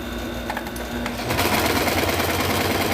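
A sewing machine stitching lace panels starts up after a few soft clicks and then runs loud and steady to the end.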